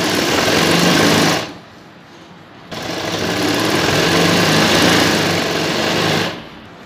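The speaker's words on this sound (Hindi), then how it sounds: "अब वापस फिर से इस पर हम फिटिंग की सिलाई कर लेंगे।" An electric sewing machine stitches the shoulder fitting of a blouse in two loud, fast, steady runs separated by a short pause, with no talk over it.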